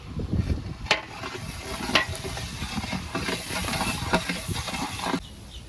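Onions browning in a large cooking pot for an 11 kg batch of chana chawal, with a close steady sizzling hiss and a few sharp scraping knocks of a stirring spoon against the metal, no talk.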